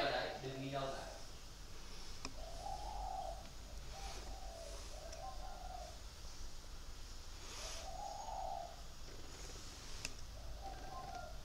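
A spotted dove cooing: a soft, repeated coo phrase recurs several times at a moderate distance over a constant background hiss.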